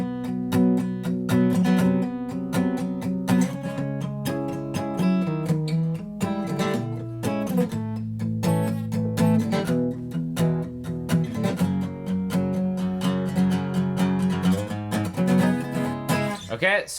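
Electric guitar playing the flat five power chord intro of a song, a sustained chord pattern moving between shapes, steady and clear with no talk.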